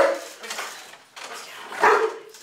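A police K9 dog barking, with a few sharp, fairly close barks spaced unevenly over a short stretch.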